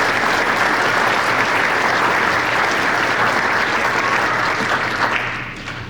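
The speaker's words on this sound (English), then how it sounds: "Please join me in giving the award recipients one more round of applause." A large crowd at a Border Patrol graduation ceremony applauding award recipients, dense continuous clapping that holds steady and then tapers off near the end.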